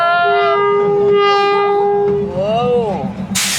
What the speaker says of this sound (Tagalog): ayun na yung tren sa likod